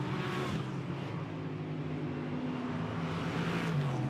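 An Alpine GT4 race car accelerates out of turn 5 at Barcelona during a GT4 European Series race, its engine a steady, droning roar that builds slightly toward the end.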